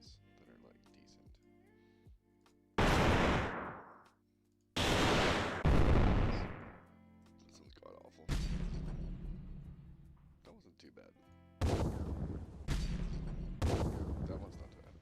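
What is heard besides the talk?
explosion sound effects being auditioned for a video edit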